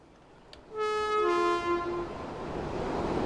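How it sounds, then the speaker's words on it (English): Train horn in Train Sim World 3 on a ScotRail Edinburgh to Glasgow run: one sustained, loud multi-tone blast lasting about a second, followed by a rising rumble of the moving train. "Good use of the horn there"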